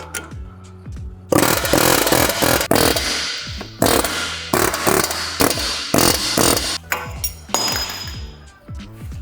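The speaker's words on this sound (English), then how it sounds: "use the air hammer and force this sucker out" Loud air hammer bursts rattle in repeated short and long runs, forcing out a Volkswagen MK5/MK6 front wheel hub, sharp metallic hammering with brief pauses between bursts.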